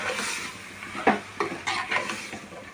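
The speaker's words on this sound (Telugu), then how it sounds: "కూరకంతా మసాలా పట్టేలాగా ఒకసారి తిప్పుకొని" A spoon turns mutton curry pieces through masala in a pan for a gongura mutton dish, making a few scraping, clattering strokes over a soft background sizzle, close up and irregular.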